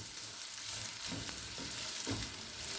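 Onions frying over medium-low flame in a pan, a faint, steady hiss of sizzling oil with a couple of soft stirring scrapes, quiet and without talk.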